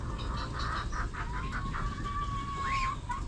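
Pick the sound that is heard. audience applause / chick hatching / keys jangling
chick hatching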